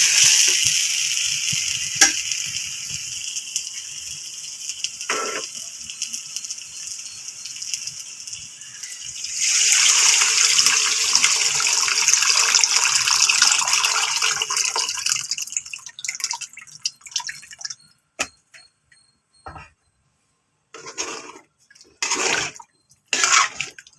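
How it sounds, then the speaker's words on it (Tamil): Tamarind water poured into a hot pan of kaara kuzhambu, a spicy South Indian curry, sets off a loud, steady sizzle and bubbling hiss that later breaks into short intermittent bursts and stirring, with no one talking. "இப்போ புளி தண்ணியை ஊற்றிக்கலாம்."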